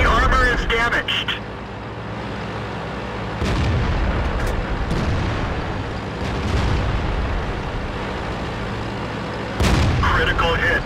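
A tank cannon in World of Tanks fires in loud booming blasts, with a big report near the start and another near the end, over rumbling engine noise and game voice callouts.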